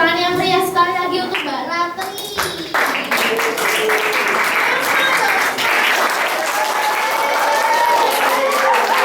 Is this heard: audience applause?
yes